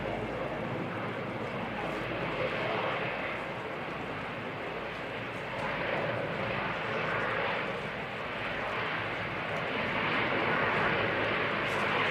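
An Emirates jet airliner in Destination Dubai livery at Christchurch Airport in snowy weather gives a continuous broad engine roar that holds steady and fairly loud throughout, with no talk.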